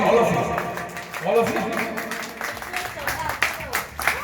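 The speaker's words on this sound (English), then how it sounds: "this fellow needs big round of applause" An audience gives a round of applause at a stage event. The clapping is moderately loud and mixes with voices talking over it.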